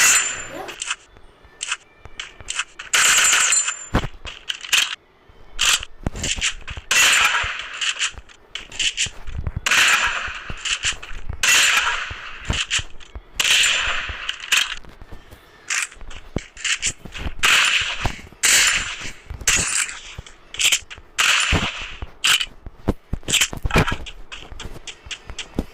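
Gunfire from a shield gun, an SKS and an M500 in the Free Fire mobile game crackles in rapid bursts and single sharp shots, with metallic reload clicks scattered between them over about twenty-five seconds.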